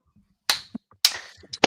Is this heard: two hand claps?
yes